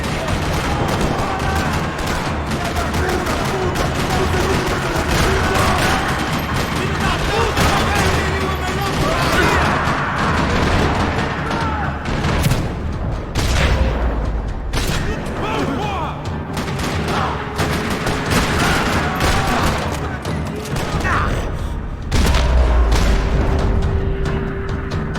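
Dense, continuous gunfire crackles through a Max Payne 3 battle in a parking lot, with rapid bursts and heavy booms stacking into a loud, chaotic barrage.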